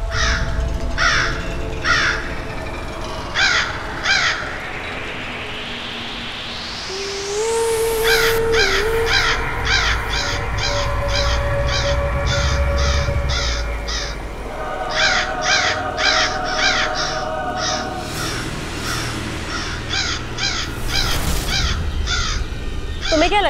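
Crows cawing in repeated bursts of harsh calls over a cartoon scene, with a rising whoosh, low rumbling music and a sliding tone between the caw groups.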